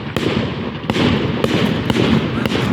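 Fireworks burst in the sky over Saltford, a series of five or six sharp, loud bangs and thumps spaced about half a second apart, with a crackling rumble filling the gaps.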